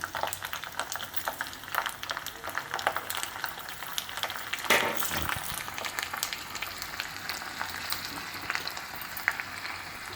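Chopped garlic frying in a pan on a home stove, a steady broadband sizzle running throughout with a brief louder crackle near the middle, moderately close and no talking.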